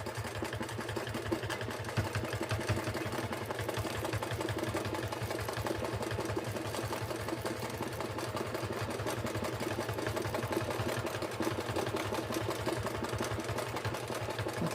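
Sewing machine stitching through a quilted table runner, a continuous fast rhythmic whirring and needle clatter running evenly at close range throughout.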